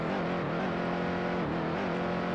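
A stock car engine held at full throttle in the NASCAR Heat 2 racing game, a steady, loud, close motor drone with a constant pitch and no voices over it.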